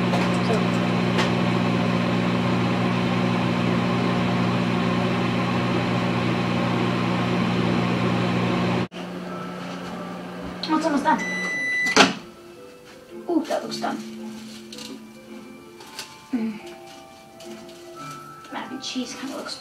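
Microwave oven heating cheese hums with a steady low electrical drone for several seconds, then stops; clatter, a door and handling noises follow while someone talks.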